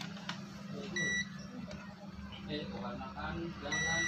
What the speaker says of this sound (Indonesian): ini menggunakan mode buzzer